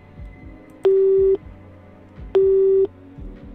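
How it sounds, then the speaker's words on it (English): Phone call tone in the Nancy Drew: Midnight in Salem video game, two evenly spaced steady electronic beeps, each about half a second long, loud and clear over a faint low background. "I'm gonna call Ned"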